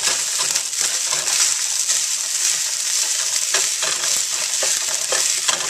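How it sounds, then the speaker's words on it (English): Rice tipped into a hot frying pan for kale fried rice gives a loud, steady sizzle and hiss, broken by scraping and crunchy stirring sounds throughout. "put your rice in"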